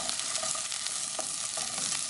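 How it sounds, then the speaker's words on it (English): Artichoke and fennel sauteing in a pan, a steady close sizzle and frying hiss with occasional scrapes and clicks of stirring throughout, no talk. "sauteing some artichoke and fennel."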